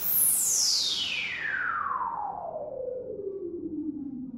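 Frostbite 2 spectral freeze plugin in spectral mode: one processed tone sweeps smoothly downward from a bright shimmer to a low hum over about four seconds, fading gradually without any voice.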